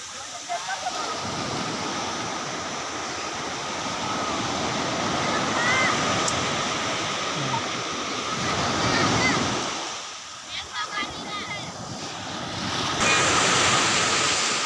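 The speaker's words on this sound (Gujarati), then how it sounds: "બહુ મોટા મોટા મોજા આવે છે." Large, rough ocean waves roll onto the seashore during a Ganesh immersion at Mithi Virdi, giving a loud, continuous roar of surf that swells and eases in surges, with faint voices in the background.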